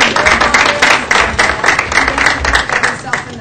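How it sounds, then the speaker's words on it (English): Applause from a live audience at a local music performance, steady and fairly close, with scattered cheering and voices mixed into the clapping. "please give him a big round of applause"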